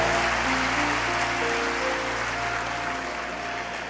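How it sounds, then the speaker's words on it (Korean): A church congregation applauds at a Sunday baptism service, with dense, sustained clapping filling the room. Faint tones sit underneath, and the applause eases off slightly toward the end. "박수로 축하해 주시기 바랍니다"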